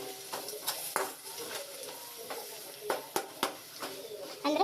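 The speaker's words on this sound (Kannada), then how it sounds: "ಈಗ ಫ್ರೈ ಮಾಡ್ಕೊಳ್ಳೋಣ ಈ ಟೊಮೊಟೊ ಚೆನ್ನಾಗಿ ಫ್ರೈ ಹಾಕಬೇಕು" Tomatoes frying in a pan for a Karnataka-style okra dish, stirred with a utensil, giving a soft steady sizzle broken by scattered scraping and clinking strikes against the pan, close and moderately loud.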